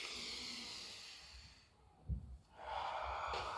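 A long, breathy exhale during a stretching exercise, faint and close, with a short snort-like puff in the middle before the hissing breath resumes.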